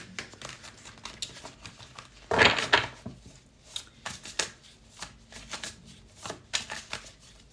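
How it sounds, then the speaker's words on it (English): Tarot cards are shuffled and pulled close by: a dense riffling burst, then a string of crisp card snaps and slaps at uneven intervals, with no voice over them. "I'm going to stop talking, and I'm going to start pulling cards"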